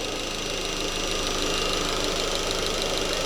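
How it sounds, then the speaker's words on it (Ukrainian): Warmed-up Opel Zafira engine with about 270,000 km, idling close by in a steady, even drone with a faint ticking texture, no voices. "Двигун прогрівся, термостат відкрився, все добренько. Ось так працює тихенько."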